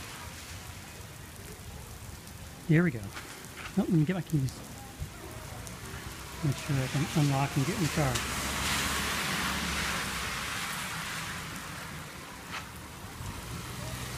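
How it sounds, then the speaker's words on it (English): Steady heavy rain with big drops patters down outdoors, with a person talking briefly in the foreground over the continuous wash of drops. "These are big drops too."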